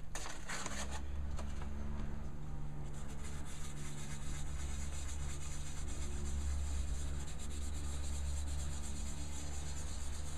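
Soft, continuous rubbing scrape of hand-sanding burrs off a wood-turned edge with fine 400-grit sandpaper, steady and close, with a low background hum underneath.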